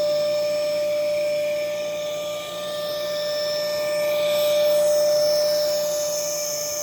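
TOPUMP TPS300 rechargeable electric pump deflating a SUP board, a steady close whine with a strong constant tone and airy rushing noise, continuous throughout with slight swells in level.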